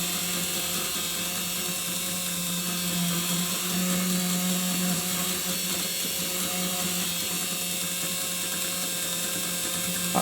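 A Wrenn model locomotive motor runs steadily during servicing, a continuous whirring, gear-like drone at moderate level with a brief tonal rise near the middle, no voices.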